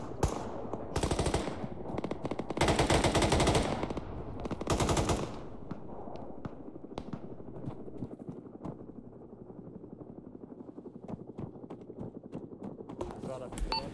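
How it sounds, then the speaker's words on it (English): Machine gun fire in the military shooter game Arma 3 comes in long, dense, loud bursts early on, then gives way to scattered single shots and quieter distant rattles, with voices talking over the radio. "am I hearing gunshots coming in from the southwest?"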